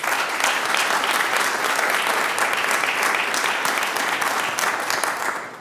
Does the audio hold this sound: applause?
yes